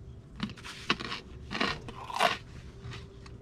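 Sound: eating breakfast, crunching food

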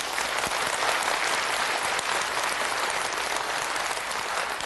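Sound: church congregation applauding

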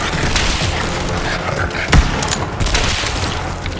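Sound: pistol firing in Borderlands 3 video game

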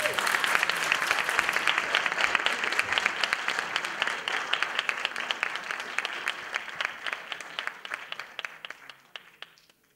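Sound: audience applause for a young singer

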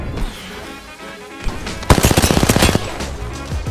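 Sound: SMG submachine gun firing in video game Apex Legends

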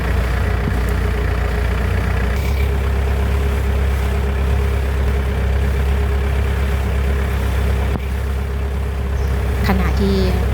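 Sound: boat engine on River Kwai cruise

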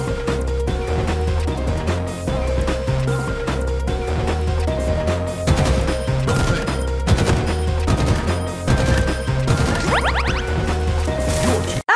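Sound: BR-75 battle rifle firing in Halo Infinite video game

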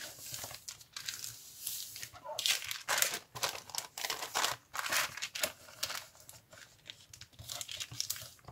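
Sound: tracing paper bag being folded and crinkled

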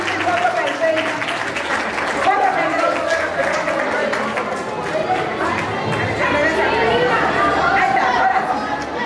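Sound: audience applause at an award ceremony

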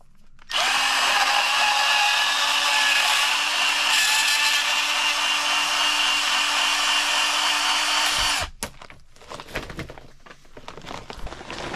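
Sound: bandsaw cutting

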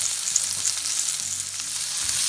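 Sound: onion and pepper frying in a pan over high heat

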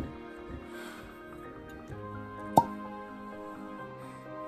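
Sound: cork pulled from a Jack Daniels Single Barrel bottle

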